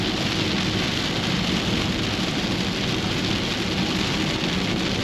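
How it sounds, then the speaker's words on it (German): Heavy rain in Kenya drumming steadily on a car, a loud, dense and unbroken patter of drops on the roof and body, with no voices. "Oh, da kommen schon die ersten Tropfen sogar."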